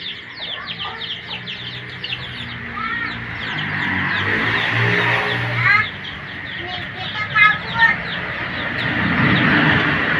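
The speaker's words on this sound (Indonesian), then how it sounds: "Dan ini entok-entok saya yang lainnya, sebagian ada yang lagi mengeram dan sebagiannya lagi kayaknya baru mau bertelur." Muscovy ducks, some brooding and others about to lay, give soft, repeated calls over steady background noise. The sound rises a little with a few brief, sharper notes near the end.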